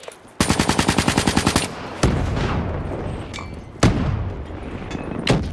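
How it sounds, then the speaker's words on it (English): Rapid automatic gunfire from Black Ops 3 multiplayer on Xbox One: a loud, fast burst of shots over about a second, followed by several single heavy booms spaced apart amid a steady rumbling game-ambience background. "There is a hunter shooting us"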